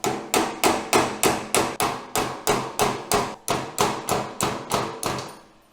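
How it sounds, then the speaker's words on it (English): A hammer smacks a heated metal puller to free a stuck part, about fifteen loud, ringing metallic blows at a steady, fairly quick rhythm, close up and with no talking. "Let's smack it a few times and hopefully it's going to move."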